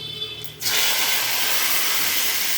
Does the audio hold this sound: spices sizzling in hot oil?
yes